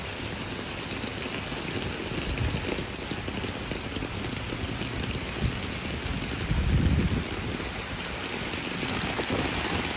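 Heavy rain on flooded streets in San Francisco during a bomb cyclone, a steady dense hiss of downpour and splashing water with a brief surge midway, no voices.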